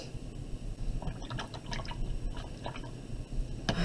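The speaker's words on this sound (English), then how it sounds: "Rinse my paintbrush off." A paintbrush swished and rinsed in a water cup while finishing a tempera color wheel, with small drips and liquid splashes scattered through a few seconds, close and moderately quiet.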